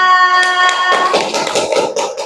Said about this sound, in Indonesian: beri tepuk tangan buat Aska